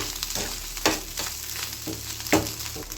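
Crispy fish roe bhujia stir-fried in a pan, a continuous sizzle with a few sharper scraping strokes of the spatula against the pan, close and steady, with no talking.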